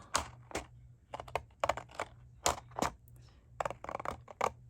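A series of short, crisp snips from small scissors cutting out press-on nails, irregular bursts close to the microphone with brief pauses, no talking.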